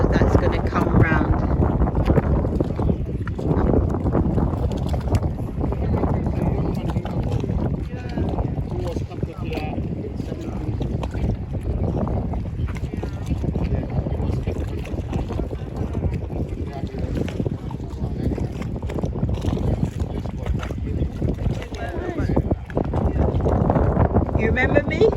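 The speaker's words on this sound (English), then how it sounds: "that is the boat that's going to come round" A boat comes round on the water to carry visitors to Kunta Kinteh Island in the Gambia, its low rumble mixed with steady, heavy wind buffeting the microphone while people talk nearby throughout.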